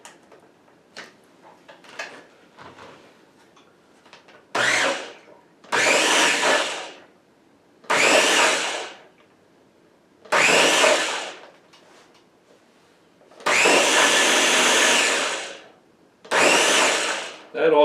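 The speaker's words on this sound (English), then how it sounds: "don't blend too much, because we don't want that whipping cream to thicken up too much" A countertop blender mixing whipping cream in six short, loud pulses of whirring motor, each a couple of seconds long, with brief pauses and quiet talk and handling noises between them.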